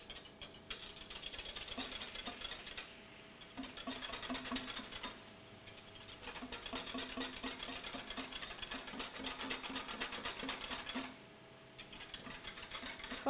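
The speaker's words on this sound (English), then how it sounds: "And give this a whisk." A drink mixture of coconut and blackberry soda is whisked in quick rhythmic rattling bursts, close and continuous with a couple of short pauses.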